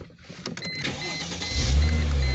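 A 2004 Chrysler Crossfire engine starts after a few clicks and rustles inside the car, catching into a loud low rumble close up in the last second.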